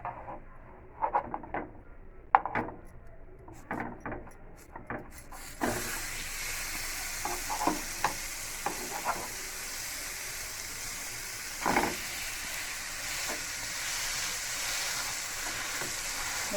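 Butter sizzling under a cheese sandwich as it toasts in a hot pan, starting with sparse pops and scrapes and settling into a steady close frying hiss after about five seconds, with occasional clicks and one brief louder burst.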